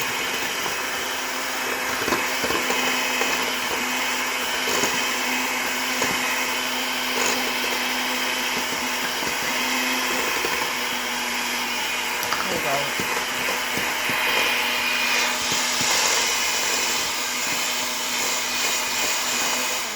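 An electric hand mixer whirs steadily through maple cupcake frosting, a continuous loud motor drone running the whole time with slight shifts in pitch.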